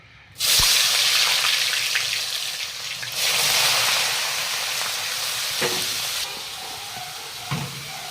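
Jackfruit chunks drop into hot oil and break into a loud, steady sizzle, with a brief surge of frying noise partway through and a few clinks of a utensil near the pan.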